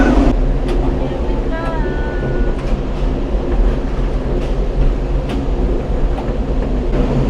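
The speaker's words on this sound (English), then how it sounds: "this is the original 1960s tram that we're riding in" The original 1960s tram rides up inside the Gateway Arch in St. Louis with a continuous low rumble, rattling and occasional metallic clicks, while muffled voices sometimes sound in the car.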